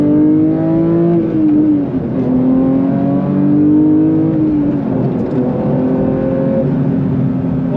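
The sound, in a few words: 2022 Porsche 911 GT3 Touring driving on back roads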